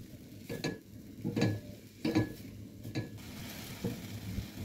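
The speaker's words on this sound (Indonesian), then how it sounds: "Di sini kita tumis bumbunya ini sampai tanak ya." Blended spice paste for rawon, a paste made with a little water, sautéing in a pan, with steady sizzling and several spatula stirs and scrapes close by, quiet and with no voices.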